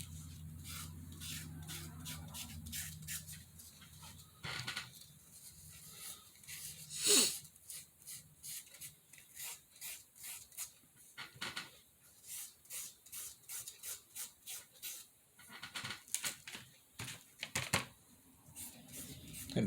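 A paintbrush applies pale daffodil paint to the interior of a handmade gypsy circus wagon, making soft, close, rhythmic scratchy strokes that repeat steadily, with a low hum at first and one sharper knock partway through.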